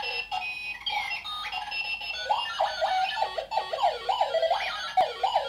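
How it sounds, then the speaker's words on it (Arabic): A desk alarm clock goes off with a continuous warbling electronic ring, loud and close, running steadily without any talk. "بال24 دقيقة يدق المنبه"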